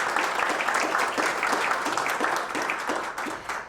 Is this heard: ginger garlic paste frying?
no